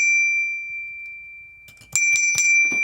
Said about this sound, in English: I've got handbells just for kids.